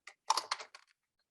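A short burst of clicky computer keyboard typing during an online community meeting, a few quick keystroke clusters close to the microphone before fading into silence.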